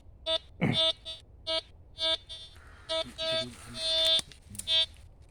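A metal detector beeping over a buried target on a Kepulauan Seribu island, a run of short repeated electronic tones in an uneven rhythm, with a brief voice and some background noise in between.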